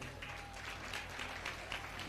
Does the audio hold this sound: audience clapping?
yes